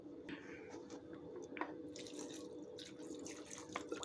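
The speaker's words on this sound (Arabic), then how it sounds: "احط بقى شويه ميه،" Water poured into a cooking pan on the stove, with faint splashing and dripping over a low steady background hum, quiet and close.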